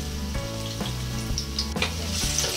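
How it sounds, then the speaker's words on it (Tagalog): Garlic dropped into hot oil for pork tongue adobo sizzles steadily and close up, a bright frying hiss layered over a low, rhythmic hum in the background, with no voices. "kapag medyo mainit na ay pwede na nating ihulog itong ating bawang"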